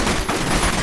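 Rapid bursts of gunfire-like explosions from a PC game benchmark on an 8800GT and Athlon 64 X2 system, with sparks and falling chips of ceiling and wall, crackling loud and dense throughout with no pauses.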